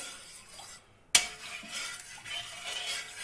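A spoon stirs a grape molasses (pekmez) mixture for walnut sucuk in a bowl, one sharp clink followed by a continuous soft swishing and scraping, close by.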